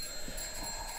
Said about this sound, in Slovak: a někdo mi tu zvoní jak šialený a budem to muset jít zdvihnout